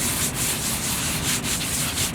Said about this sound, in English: I'll take my flat side of my sanding sponge with the 150 medium grit on it